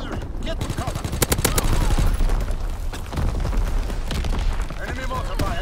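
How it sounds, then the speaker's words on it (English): Incoming enemy mortar and artillery fire in the Call of Duty WWII video game: a dense barrage of sharp gunfire bursts and booming impacts, with heavy clusters early and scattered blasts later, under voices. "Enemy mortar fire incoming."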